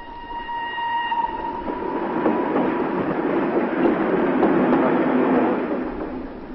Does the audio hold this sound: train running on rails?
yes